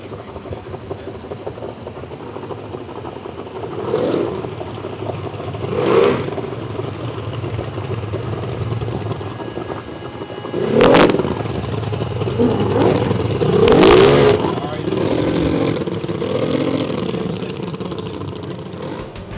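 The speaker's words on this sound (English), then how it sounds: "Right now, Michael, I think we want to tell everybody, start your engines." Racing powerboat engines at a river regatta rumble and rev in the distance, with several rising surges of throttle over a constant low idle and ambient crowd noise.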